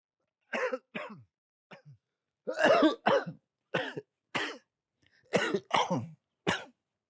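A sick woman with flu coughs in a quiet room, a series of harsh, close coughs in short bursts and doubled fits separated by silent pauses, with some throat clearing.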